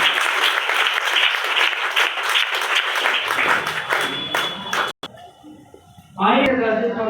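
A large audience at a health awareness program gives loud, sustained welcoming applause that fades after a few seconds, followed by a brief pause and then someone speaking.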